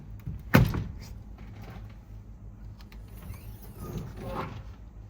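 A Kawasaki Mule Pro flip-up windshield swings open with one sharp clack near the start, followed by faint mechanical rattles and a softer shuffle of movement, close by against a low steady hum.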